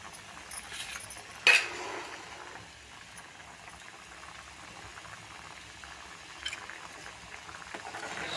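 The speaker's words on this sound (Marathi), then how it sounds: "2 मिनटं उकळून देऊ आपण, मग गॅस बंद करू." A pot of dried shrimp (sode) bhaji simmers at a low boil, a faint steady bubbling with a brief clink near the start and another soft knock later, no voices.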